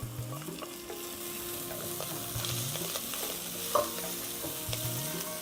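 Onion, carrot, leek and celery fry in a pan with a continuous, fairly loud sizzle, broken by the shuffling of stirring and a single brief clink partway through.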